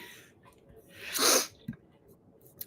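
A single loud, close sneeze bursts out after a short intake of breath, followed by a couple of faint sniffs and breaths.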